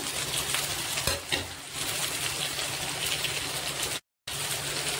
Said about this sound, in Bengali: ভালো করে এখন একটু কষিয়ে নেব। পরিমাণ মতো লবণ দেব, হলুদ দেব, কাঁচা লঙ্কা